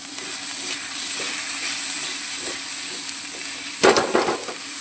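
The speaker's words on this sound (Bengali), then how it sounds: "ভালোভাবে ওটাকে আমি কষিয়ে নেব।" Potol (pointed gourd) sautéing in a pan with a continuous even sizzle, then a louder burst of stirring and scraping near the end, with no voices.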